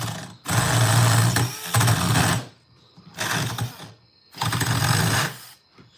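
A small chainsaw, assembled without its oil line, runs on a plastic table in loud, buzzing bursts of a second or two separated by brief idling lulls, close and harsh with a rattling resonance.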